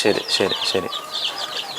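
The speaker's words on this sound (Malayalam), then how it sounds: "വലിപ്പം കുറഞ്ഞത് കരിങ്കോഴിയും നാടൻ കോഴിയും എല്ലാം ഒരുപോലെ ഇറങ്ങിയതാ" Kadaknath and native chickens on a poultry farm give a quick run of three loud, close clucks, followed by softer chirping calls.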